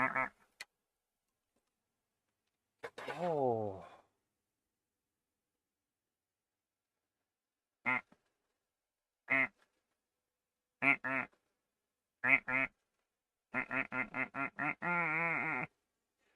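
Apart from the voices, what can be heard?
duck quacking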